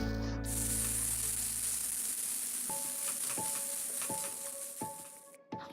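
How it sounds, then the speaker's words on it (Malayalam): Boiled potato dropped into sautéed onions in a hot pan and mashed, giving a steady close sizzle followed by a run of soft, regular thuds and scrapes as the potato is pressed down. "ഇനി നമുക്കിതിലേക്ക് നമ്മൾ ആദ്യം വേവിച്ച് വെച്ചിരുന്ന പൊട്ടറ്റോ ഇട്ട് കൊടുക്കാം. പൊട്ടറ്റോ ഇട്ട് നന്നായിട്ട് ഉടച്ചു കൊടുക്കാം."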